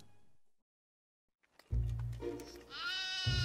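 A cartoon sheep bleats loudly and close in a long wavering call, starting after a short silence, with a low steady rumble of animated-scene background underneath.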